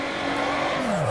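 Car drifting through a turn in the video game Need For Speed Underground, a brief, loud engine drone with a tone that drops sharply as the car slides, with tire noise mixed in.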